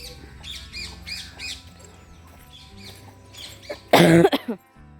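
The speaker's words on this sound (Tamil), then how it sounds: "அது இருமல் தான் அந்த மாதிரி வரட்டு இருமல் மாதிரி வருது" Near the end a single sharp, dry cough bursts out close by, after a stretch of quiet background sounds on a cattle farm during evening work.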